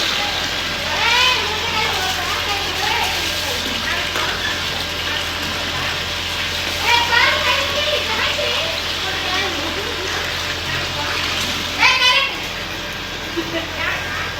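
Water pours and splashes steadily from a tap as several people fill containers together, a constant rushing spatter with occasional clatter, while children's and adults' voices chatter over it throughout.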